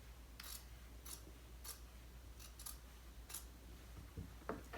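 Scissors trim quilt batting in a quiet room, with several soft, brief snips at irregular intervals over a low steady background hum.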